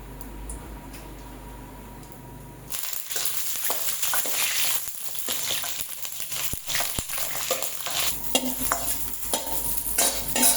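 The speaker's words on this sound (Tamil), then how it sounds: "பாருங்க, எண்ணெயில் கத்திரிக்காய் நல்லா ஃப்ரை ஆகிடுச்சு." Long-cut eggplant pieces fry in oil; a quiet start gives way to a loud, close sizzle with utensil stirring and scraping clicks throughout.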